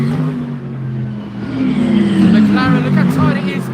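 A McLaren race car sweeps through a corner, engine droning then rising in pitch as it powers out, fairly loud and close, with voices talking over it.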